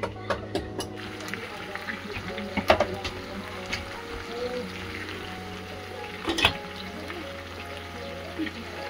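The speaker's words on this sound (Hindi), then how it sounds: "एकदम गर्म पानी डाल दे रहे हो दोस्तों गर्म पानी डालने से जल्दी हो जाता है" Hot water pours steadily into a cooking pot of local chicken and black taro, a continuous close splashing rush running through the whole stretch while voices talk over it.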